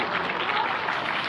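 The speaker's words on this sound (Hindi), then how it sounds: "तालियां आपकी जरा जोरदार बजती रहें।" Audience applause at a Himachal Day ceremony held outdoors on a historic ground, a brief, moderately loud burst of steady clapping.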